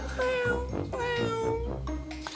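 A cat meows over and over in a steady run of drawn-out, tonal cries, loud and close, with faint chatter underneath.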